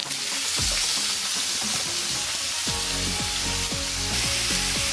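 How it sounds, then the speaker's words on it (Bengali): Spiced ash gourd pieces frying in a pan without water for a Bengali chal kumro ghonto: a dense, close sizzle runs throughout, with scraping stirs of a spatula coming in quicker succession toward the end. "জল না দিয়ে ভেজে নিয়েছি মশলা। এবার আমি চাল কুমড়ো কাটা আমি দিয়ে দিচ্ছি।"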